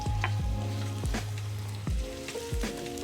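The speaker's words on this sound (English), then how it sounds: "So now we just go ahead and add our onions." Onions added to hot olive oil in a pan hiss loudly up close, a dense sizzle broken by several soft scraping stirs and bumps as they are moved around.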